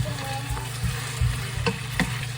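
Chicken frying in a lidded pan is stirred, giving a steady loud sizzle close by, broken by a few scraping knocks of the utensil against the pan, with no talking.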